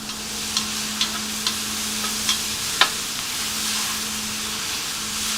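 Chicken and vegetables stir-frying in a hot pan for a spaghetti squash stir fry, a steady sizzle and hiss with a few faint clicks of stirring, and a low hum running under most of it.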